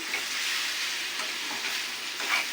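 Carrots being stirred in a hot pan, a soft steady sizzle with faint scraping of the spoon, fairly quiet and without talk.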